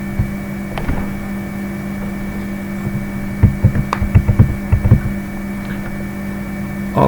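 Electronic sound effects from a Centipede clone arcade game play over a constant low electronic hum, with scattered blips and a quick cluster of pulsing beeps near the middle.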